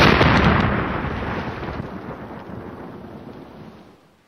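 A single big explosion sound effect bursts loud at the start, then rumbles and crackles as it slowly fades over a few seconds.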